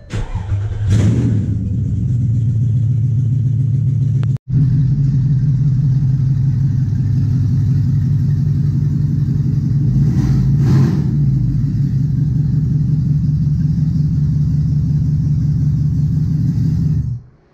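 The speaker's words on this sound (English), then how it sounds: "this is gonna be open header startup" Porsche Cayenne S 4.5L V8 starting up with open headers: a sharp crank and catch, then a loud, steady, rumbling idle with a couple of brief revs before it shuts off.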